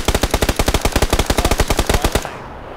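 Rapid automatic gunfire in PUBG, a loud, steady burst of about two dozen evenly spaced shots that stops abruptly and leaves a short, fading tail.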